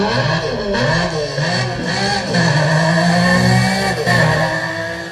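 Video game car engine heard while driving, a loud continuous mid-range drone with shifting pitch as revs rise and fall, alone with no talk.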